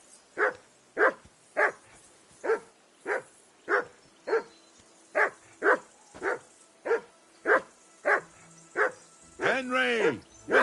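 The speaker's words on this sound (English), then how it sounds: "Henry! Whistle at that mutt of yours to stop barking." A dog in Kingdom Come Deliverance barks steadily, about fifteen evenly spaced, sharp woofs at moderate distance, followed near the end by a drawn-out whining howl.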